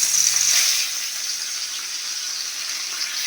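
Salted, turmeric-rubbed kajoli fish hitting hot oil in a wok, a bright steady sizzle that flares at first, then settles into a constant hiss, close by with no talk.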